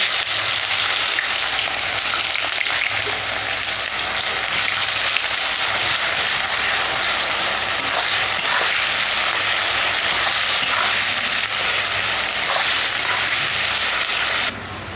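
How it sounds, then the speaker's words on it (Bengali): Onions frying in hot oil with whole cumin, dried red chillies and whole garam masala for a Bengali mutton curry, a steady dense sizzle holding evenly loud throughout, with faint stirring underneath and no talking. "পেঁয়াজগুলো ভেজে নেবো"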